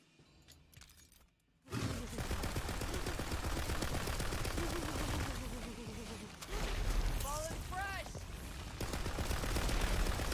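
SMG gunfire in Tiny Tina's Wonderlands, rapid sustained bursts of automatic fire starting abruptly after a quiet moment, continuing under game effects and chirping sounds.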